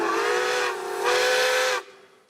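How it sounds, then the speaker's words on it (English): A loud Nathan five-chime whistle on Pere Marquette 1225, a Berkshire steam locomotive, sounds a rich multi-tone chord in two long blasts with a brief dip between, then cuts off sharply. "1225's whistle is a Nathan 5-chime."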